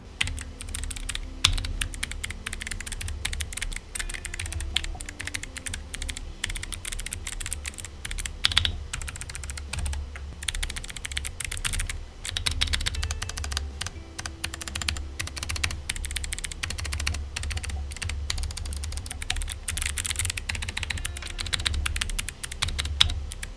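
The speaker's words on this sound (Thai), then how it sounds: "เรามาฟังเรื่องของเสียงคีย์บอร์ดตัวนี้กันดีกว่าว่าเป็นยังไงบ้างนะ" Continuous rapid typing on a Cooler Master MK770 mechanical keyboard with Kailh Box V2 switches and gasket mount, crisp clicky keystrokes and occasional louder spacebar thumps, close up with no talking.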